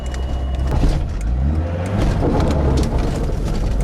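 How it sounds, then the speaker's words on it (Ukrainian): A Mercedes 190 engine idles roughly with an uneven, stumbling misfire, a loud and close rumble that holds steady throughout with no talking. "Робить так як жигуль на однім циліндрі"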